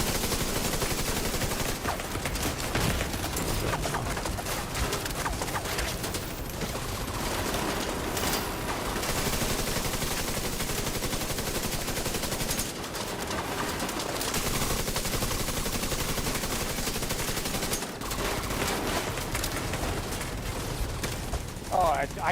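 Gunfire from The Division 2: dense, continuous automatic fire and combat noise fills the whole stretch at high level, with someone talking over it in places.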